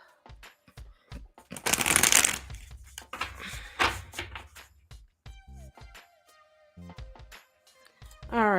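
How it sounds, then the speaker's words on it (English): Tarot cards are shuffled up close: a burst of riffling and flapping, then scattered taps and slides as the deck is handled, with a brief tonal hum near the end. "Let's give this a quick shuffle."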